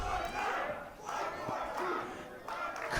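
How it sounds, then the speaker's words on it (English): Wrestling arena crowd at Shane Mercer vs Calvin Tankman roars and chants for another body slam, a dense continuous wall of voices swelling and dipping, with a few louder shouts rising above. "Crowd calling for another."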